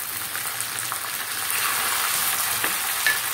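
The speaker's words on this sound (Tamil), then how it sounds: "கருவேப்பிலை இப்போ நல்லா பொரிஞ்சிருச்சு" Curry leaves fry in hot oil for paruppu kulambu, giving a close, steady sizzling hiss with small crackles throughout, no voices.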